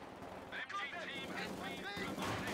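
An MG42 machine gun in the strategy game Company of Heroes 2 fires in a quiet, distant rattling burst mixed with other battle sounds, while a commentator talks over it.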